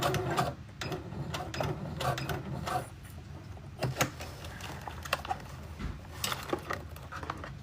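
A home sewing machine back stitching the end of a seam runs in short mechanical bursts with ticking stops between them, fairly quiet and close, with no talk.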